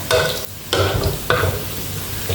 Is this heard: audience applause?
no